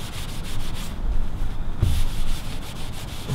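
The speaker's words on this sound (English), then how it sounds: "we'll just use dry cloth now. We'll see how it goes cleaning it off" A dry cloth rubs lipstick off a gyprock wall panel in steady, loud, close back-and-forth scrubbing strokes with a brief lighter pause in the middle.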